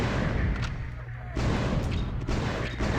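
Cannon fire in the shooter video game Einhander, a run of heavy booming shots, loud and close, with several blasts in quick succession against a dense game soundscape.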